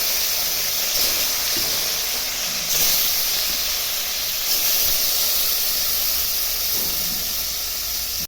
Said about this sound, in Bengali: তেল গরম হয়ে গেছে, এখন মাছটা ছেড়ে দিচ্ছি।